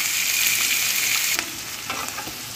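Onions fry with cumin and asafoetida in hot oil for okra sabzi, giving a loud, dense, continuous sizzle; a couple of stirring knocks come midway and the sizzle then eases slightly.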